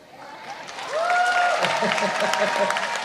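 Applause from a crowd at a digital democracy festival in Indonesia swells after about a second and continues steadily, mixed with a tonal whistle-like sound and crowd noise at the start.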